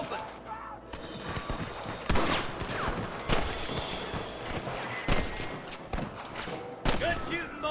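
Dense gunfire rattles in the Western video game Red Dead Redemption, rapid overlapping shots and heavy bursts in a continuous firefight, with voices talking through it.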